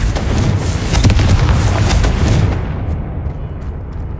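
In the Hogwarts Legacy video game, a Confringo explosive spell goes off as a loud, crackling fiery blast with a burst of sharp pops and booms that fades over a few seconds.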